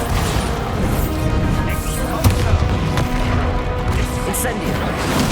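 Repeated Bombarda blasting spells in Hogwarts Legacy go off as crashing, booming explosions, a sharp hit at midpoint standing out among the rumbling impacts, with combat clatter throughout and no speech.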